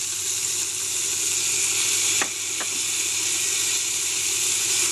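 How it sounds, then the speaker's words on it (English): Tomato and garlic sizzle steadily in a hot pot of seafood bisque base, a continuous bright frying hiss with a couple of brief clicks midway and no talking. "We'll add in the tomato"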